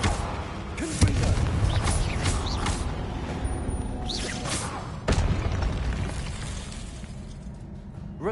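A Confringo fire spell explodes in Hogwarts Legacy, a sharp blast and thud near the start followed by rumbling mechanical clatter and another impact midway, set against continuous game ambience.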